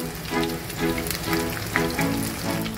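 Pieces of fish fry in a pan with a close, continuous sizzle broken by occasional crackling pops, and no one speaks.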